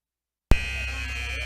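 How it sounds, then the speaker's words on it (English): A basketball game buzzer sounds after a timeout, one loud sustained electronic blare that starts abruptly after silence and holds steady. "the buzzer sounds"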